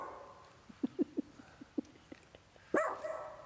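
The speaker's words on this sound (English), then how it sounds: "Sorry, the dog's barking over here." A dog barks indoors during a group call, a series of short, soft barks and yips in an irregular rhythm followed by a louder, drawn-out whining bark, faint and somewhat distant against background hiss.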